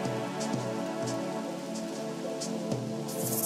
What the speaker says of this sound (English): Oh good, and it's raining.